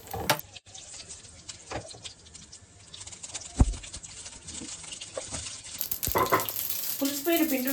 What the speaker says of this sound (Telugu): పోపు పోపు వేస్తున్నాను